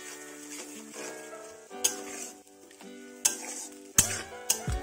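A spoon stirs masala frying in a pan for dahi aloo dum made without onion, garlic or ginger, with green chilli paste and cashew water added; steady sizzling runs under scraping strokes and a few sharp metal clinks.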